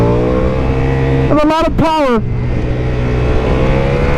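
A 2023 Ducati Diavel V4 motorcycle with a 1158cc V4 engine revs loudly on a public road, rising through a couple of sharp accelerating pulls while someone talks over the steady engine drone.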